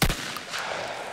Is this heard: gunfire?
yes